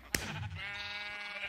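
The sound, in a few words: sheep bleating in a video game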